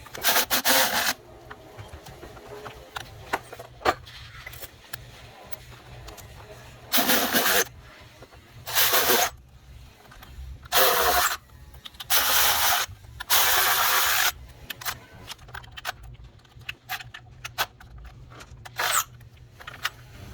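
Bolts on a Jeep Grand Cherokee 3.6L V6 oil filter housing are tightened with a ratchet, giving repeated bursts of rapid clicking between quieter pauses and small handling noises, close and fairly loud.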